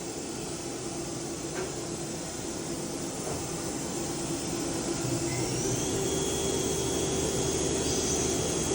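A 2003 Daewoo DMV-3016 CNC vertical machining center runs with its axes moving at 4500 RPM, giving a steady, loud whirring drone with a faint rising whine, continuous and close.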